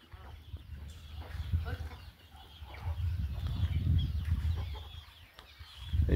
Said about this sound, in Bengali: এখানে মুরগিগুলো আবার বাড়িতে নিয়ে যাচ্ছে।